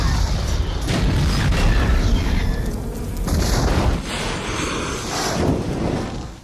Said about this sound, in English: I am so shocked she could outrun that explosion